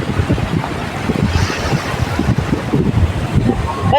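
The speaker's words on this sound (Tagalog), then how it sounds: "So malakas-lakas na yung alon kasi pa high tide siya." Strong high-tide waves rolling in at Paniman Beach in Ternate, Cavite, a steady broad wash of surf with gusty wind buffeting the microphone, no voices.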